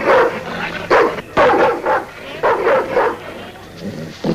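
Sled dog in a Yukon dog-race setting barks and yips repeatedly in loud close bursts, with some whimpering between barks.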